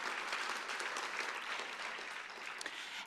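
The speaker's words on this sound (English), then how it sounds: "Let's give our access class a round of applause." An audience applauds a graduating leadership class at a ceremony, a dense, steady round of clapping that continues for the whole stretch.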